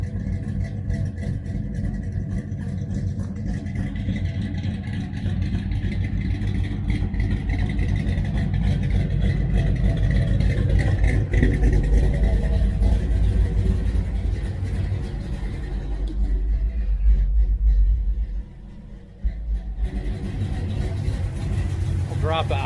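A 1966 Dodge Charger engine with a Holley 4150 carburetor idles and runs steadily close by, a deep continuous rumble that rises slightly midway and dips briefly near the end, with someone talking over it.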